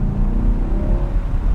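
A 2024 Chevrolet Corvette C8 Stingray 3LT with a mid-mounted V8 accelerates hard, giving a loud, deep, throaty engine roar heard from inside the car in a brief burst.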